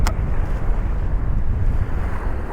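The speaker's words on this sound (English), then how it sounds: "This wind is horrible." Strong wind buffets a microphone on a Southend beach in the UK, a loud, continuous rumbling roar with low gusty turbulence and no talk.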